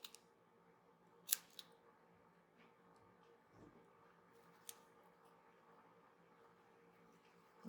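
Scissors snip through burgundy yarn with a few sharp, close clicks. The clips are spaced out over a quiet background with light handling noise.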